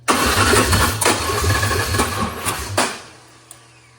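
A Ford Ranger pickup truck with an anti-theft fault cranks with a loud, rhythmic starter churn for about three seconds, surges briefly as it tries to catch, then fades out, ending with a single small click.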